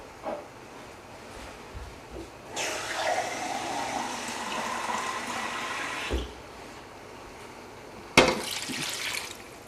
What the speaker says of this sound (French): Et là maintenant, on va pouvoir couvrir d'eau.